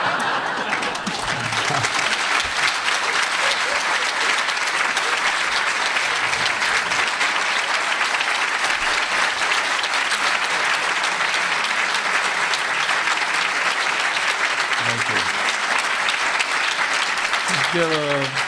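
Sustained audience applause at an artist talk featuring a painter, a dense steady clatter of many hands lasting throughout, with scattered voices and brief chuckles mixed in near the end.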